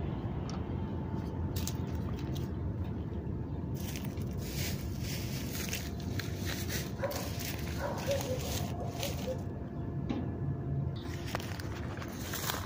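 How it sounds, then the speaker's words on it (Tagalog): Stray dogs bark now and then at a distance over a constant noisy background, with a few scattered yips and some shuffling. "Ingay dito sa amin kasi daming aso dito na gala."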